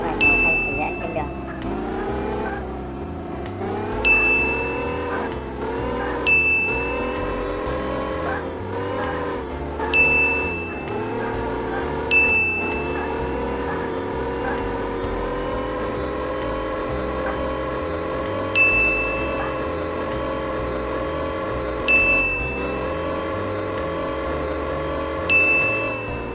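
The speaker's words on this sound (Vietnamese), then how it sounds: "ta điều khiển xe tải chở cát về cái khu tập kết" A simulated dump truck hauling sand drives in an excavator and truck game, its engine a steady, layered drone with repeated short chiming dings at intervals.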